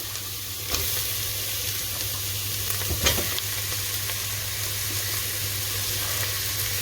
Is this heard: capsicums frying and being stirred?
yes